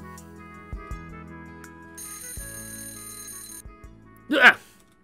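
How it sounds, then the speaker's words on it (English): An alarm clock rings in a visual-novel scene, a sustained bright electronic ring lasting over a second after soft clicks and background music, with a loud exclamation following. "Shattering the silence is the sudden sound of my alarm clock ringing."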